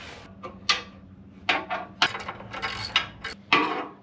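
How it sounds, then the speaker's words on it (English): Winch cable being dragged out of a winch, giving irregular mechanical clanks and ratchety rattles with sharp knocks over a low background rumble, close and moderately loud. "we've got to get the winch cable out of there"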